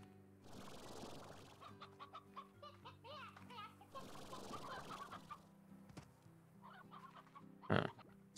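Chickens in the video game Slime Rancher cluck repeatedly in bursts across the scene, moderately loud over a steady game background hum, with a sharper louder squawk near the end.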